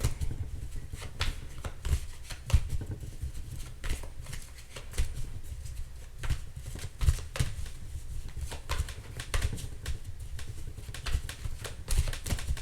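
A tarot card deck is shuffled by hand in repeated riffling bursts and soft slaps, close and fairly quiet, with no talking.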